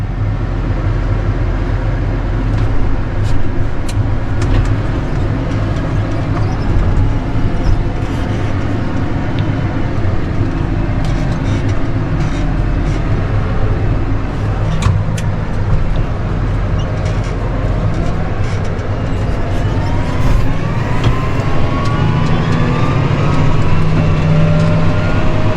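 A tractor engine drones steadily while spreading manure, with a constant low rumble and mechanical clatter heard close from inside the cab across the whole stretch.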